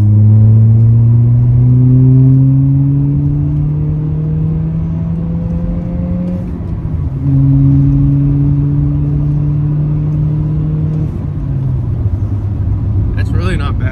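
2020 Toyota Corolla fitted with a Remark exhaust, accelerating hard with a loud, droning engine note that climbs in pitch, drops at gear changes, then climbs again.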